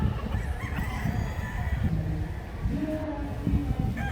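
Roosters crow among stags and pullets at a show of game fowl, their calls repeated and moderately distant over a busy, noisy crowd with faint voices.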